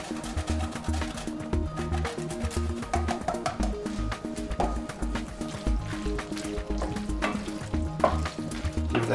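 Pappardelle with bacon, peas and fresh Parmigiano-Reggiano sizzles and crackles as it is tossed in a hot pan, with continuous close frying hiss and irregular soft stirring thumps.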